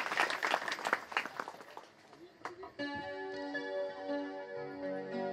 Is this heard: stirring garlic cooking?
no